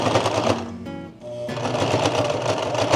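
A sewing machine stitches material at close range, a loud steady rapid mechanical chatter that briefly slows and pauses before running on again, with no talk.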